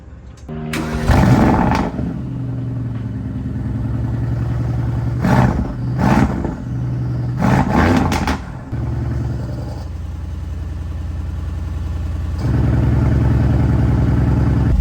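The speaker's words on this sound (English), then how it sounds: "The idle is way louder than before." A modified Mercedes-AMG GT S engine idles with a loud, steady low rumble, broken by a few brief revs or burbles, then settles into a deeper, louder idle toward the end, close by with no talking.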